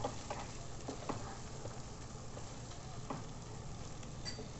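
Kadai paneer gravy being stirred in a kadai makes a soft, fairly faint sizzle and bubble, broken by repeated spoon scrapes and light patters.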